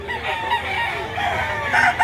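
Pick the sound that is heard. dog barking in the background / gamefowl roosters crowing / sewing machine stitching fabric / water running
gamefowl roosters crowing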